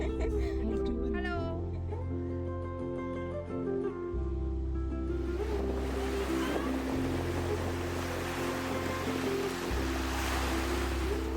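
Ocean waves break at Pattinapakkam beach in Chennai. Tonal music fills the first half, then a broad, continuous wash of surf takes over, loud and close.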